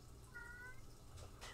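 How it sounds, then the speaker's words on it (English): Single short cat meow, faint and slightly distant, over a low background hum in a cartoon scene, followed by quiet rustling. "Why are you meowing?"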